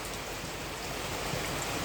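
Tropical rain patters on a boat deck during the rainy season at San Blas, a soft, even hiss of drops that runs continuously at low volume without any voices.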